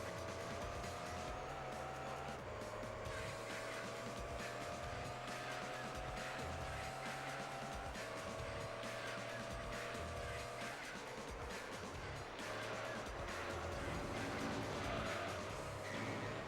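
Race car in Gran Turismo 3 A-Spec on a Japanese circuit, engine droning and shifting pitch through gears while tires squeal and skid in long stretches, loud and continuous with no talk over it.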